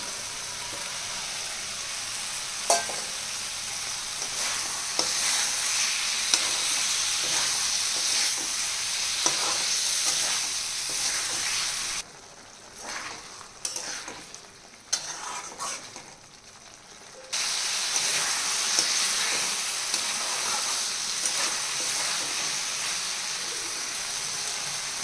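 Fried potatoes are stirred into a sizzling Odia-style prawn curry in a pan, with a steady frying hiss and scraping strokes throughout and a brief quieter pause midway.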